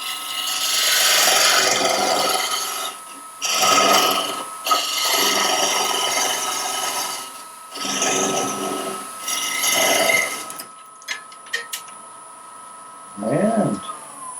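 Wooden twig pot being parted off on a woodturning lathe: several rasping, scraping bursts of cutting that start and stop, close and fairly loud, then the tool goes quiet near the end.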